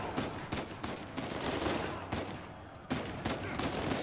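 Gunfire in the action video game Uncharted 4, a thief-adventure shooter, with dense bursts of rapid shots and sharp cracks rattling almost continuously, loud and close, pausing briefly between volleys.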